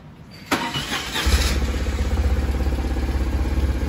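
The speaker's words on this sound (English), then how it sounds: "Motor sounds great." A 1999 BMW R1100RT motorcycle engine cranks with a sharp clatter, then catches and settles into a loud, steady, rhythmic idle close by in a garage.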